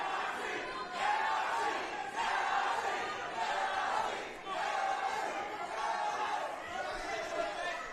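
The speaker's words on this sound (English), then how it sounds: "Got a good crowd cheering on NYC, huh?" Crowd at a live fight event cheering and chattering in waves, a dense roar that rises and dips every second or so, moderately distant and continuous.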